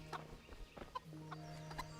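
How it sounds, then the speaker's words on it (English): Chickens clucking in the medieval video game Kingdom Come Deliverance, a few faint short clucks scattered over a low steady background hum. "Chickens."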